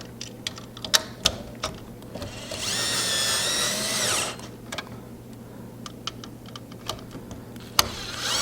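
A power drill drives screws while a Corsair H80i GT cooler is fitted on an AMD PC build, one loud sustained whirring burst of about a second among scattered sharp clicks and taps, with a steady low hum underneath.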